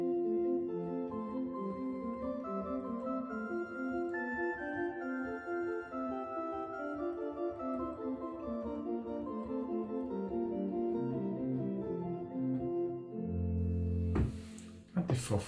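A church pipe organ at Oude Kerk Veenendaal in the Netherlands plays chords on its 8 and 4 foot stops together, sustained and full. A brief burst of noise cuts in near the end.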